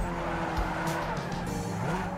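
A racing car in the video game Need for Speed Underground 2 brakes and skids, its tires squealing over a steady engine roar in a busy, continuous racing mix.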